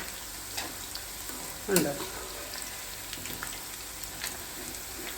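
Raw green banana pieces fry in a pan with a soft, steady sizzle and a brief stirring scrape, while a voice speaks briefly.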